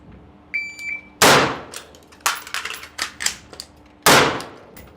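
Rifle gunshots in a combat reload shooting drill: a faint click, then a sharp loud crack, a scatter of smaller impacts and clatter, and a second loud shot near the end, outdoors at close range.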